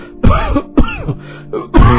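Three rough coughs from a cough that has lasted several days, harsh and throaty, come close by, spaced about half a second apart, with a short pause before the last one.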